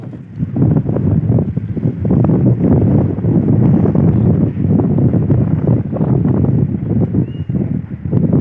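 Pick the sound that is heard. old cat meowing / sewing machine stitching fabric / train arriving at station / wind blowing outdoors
wind blowing outdoors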